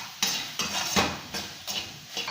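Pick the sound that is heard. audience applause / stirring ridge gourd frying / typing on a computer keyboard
stirring ridge gourd frying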